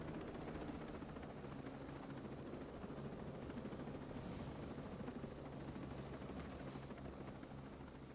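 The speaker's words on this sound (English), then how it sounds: "how does nobody notice a helicopter landing and not come to investigate?" Helicopter rotor and engine noise from a video game, a steady, dense whirring roar that holds evenly throughout without any voices.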